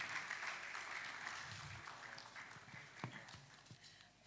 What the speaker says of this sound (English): Round of applause for him, please, as he returns to his seat